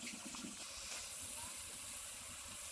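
Fritters (bora) frying in a generous amount of hot oil give off a steady, soft hiss and sizzle that run unbroken throughout, heard fairly close but at a low level.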